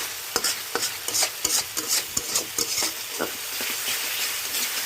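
Spoon stirring ginger, cumin and coriander as they fry in a pan for a vegetarian dish, a steady close sizzle broken by quick irregular scraping strokes, with no voices.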